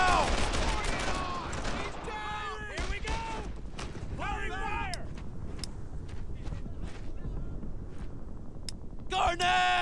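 Gunfire in the World War II shooter Brothers In Arms: Earned In Blood, scattered shots and bursts running throughout under repeated shouted voices of squad members.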